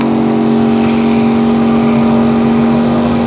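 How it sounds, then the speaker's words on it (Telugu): A battery sprayer pump of the Taiwan type runs with both motors switched on, producing a loud, steady, close motor drone with a strong constant tonal hum and no speech. "ఇప్పుడు డబుల్ ఆన్ చేస్తున్నా"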